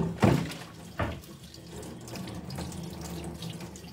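Tap water runs into a sink during household chores, a close splashing flow with a couple of sharp bursts near the start before it settles into a steady, moderate rush.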